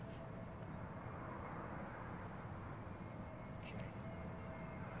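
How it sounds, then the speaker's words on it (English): At Heathrow, Airbus A350 jet engines idle far off as a faint, steady hum and hiss. Quiet, muffled voices may sit beneath it. "You can hear the 350 engines from quite some distance at idle."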